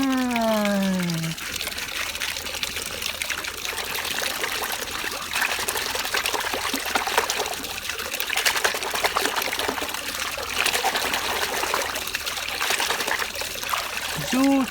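Clean water trickles and splashes steadily while toy trucks are being washed, a close, continuous watery patter with a voice speaking briefly at the start and end.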